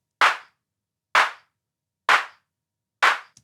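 A synthesized clap with its filter set around 1.3 kilohertz, four short sharp dry hits spaced about one second apart with silence between them.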